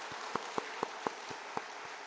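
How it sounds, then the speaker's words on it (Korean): Scattered, individual claps from a church congregation ring out about eight times at a loose, uneven pace over a quiet, hissy room background. "하나님께 영광의 박수 올려드리겠습니다."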